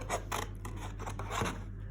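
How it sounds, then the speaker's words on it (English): Scissors snipping through paper while a figure is cut out for a school design and technology project: a quick series of soft, close, crisp cuts, quiet and unaccompanied by speech. "now we're going to cut him out"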